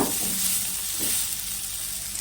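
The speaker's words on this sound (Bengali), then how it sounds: "এখানে একটুগুলি নাড়াচাড়া দিয়ে একটু আমি ভেজে নিচ্ছি" Drumstick vegetable frying in a little oil with turmeric and salt gives a steady, close hiss and sizzle, with brief stirring scrapes near the start and at about one second.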